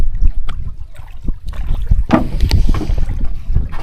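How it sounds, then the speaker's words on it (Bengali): Water sloshes and laps against a boat hull in irregular splashes, close by, with some wind buffeting the microphone. "ওই যে পানির ঢেউয়ের শব্দ শুনতে পাচ্ছেন হয়তো আপনারা"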